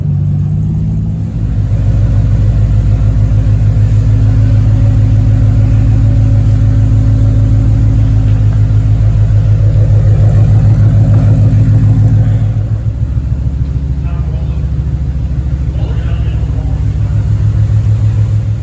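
A Lexus SC300 with a heavily modified, high-horsepower engine idles and rolls slowly into a garage, its deep, steady rumble loud and close throughout, easing slightly near the end.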